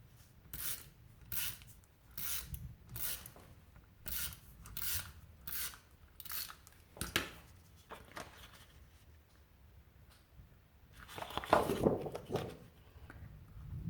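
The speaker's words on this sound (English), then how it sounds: "Going to tape runner around the outside edge of this French vanilla cardstock." A tape runner pulled along the edge of French vanilla cardstock makes a series of short, close, raspy strokes in an even rhythm, followed by a pause and then a louder scraping burst.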